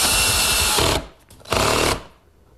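A power drill drives screws into a wooden library ladder frame in two loud whirring bursts, each lasting about a second, separated by a brief pause.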